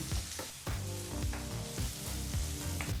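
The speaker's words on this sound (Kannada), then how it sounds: "ಮೀಡಿಯಂ ಫ್ಲೇಮ್ನಲ್ಲೇ ಮೂರು ನಿಮಿಷಗಳ ಕಾಲ ಈರುಳ್ಳಿನ ಚೆನ್ನಾಗಿ ಫ್ರೈ ಮಾಡ್ಕೋಬೇಕು" Finely chopped onion fries in hot oil over a medium flame, a close, steady sizzle broken by a few scraping stirs of the spatula.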